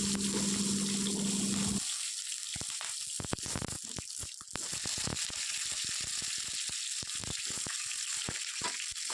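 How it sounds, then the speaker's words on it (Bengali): Green chili, eggplant and potato fry in hot oil for a fish curry, a close sizzle that starts with a steady hiss and then breaks into crackling, popping bursts that continue to the end. "কাঁচা লঙ্কাটা একটু ভাজা ভাজা হলে ওর মধ্যে বেগুন আর আলুটা দিয়ে একটু কষাবো"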